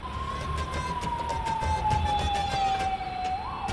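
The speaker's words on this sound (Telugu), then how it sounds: "కుయ్యి కుయ్యి అని అంబులెన్స్ల సైరన్ వినబడితే" A wailing ambulance siren in Hyderabad traffic holds a long tone that slowly falls in pitch, loud and steady over low traffic rumble.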